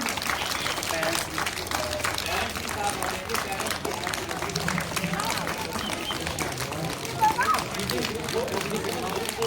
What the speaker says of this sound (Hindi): जोरदार तालियों के साथ निमरा को स्वागत किया जाए